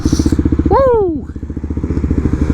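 Kawasaki KLX300SM supermoto motorcycle at a motocross track, its single-cylinder engine chugging at close range before a revving rise and drop. A voice speaks briefly over the engine.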